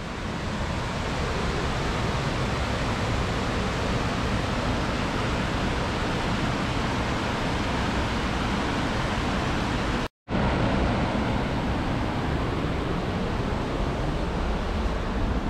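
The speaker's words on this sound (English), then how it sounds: "The atmosphere with the roar from the waterfall and like the reeky mist in the air" Roar of Reekie Linn waterfall in Scotland: a loud, steady broadband rush of falling water that fills the whole span close up, broken only by one abrupt momentary dropout near the end.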